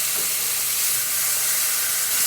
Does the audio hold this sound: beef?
yes